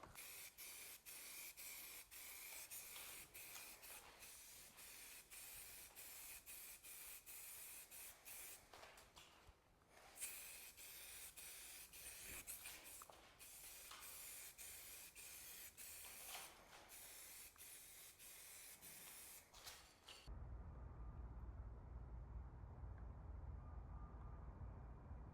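A spray gun lays down a fully wet final coat of all-in-one paint that needs no primer or clear coat, giving a long, steady hiss with brief pulsing breaks. It cuts off near the end, leaving a low rumble.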